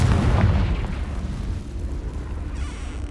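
The Confringo fire spell explodes in the video game Hogwarts Legacy, a loud low boom that rumbles and fades into a steady roar of debris and settling dust.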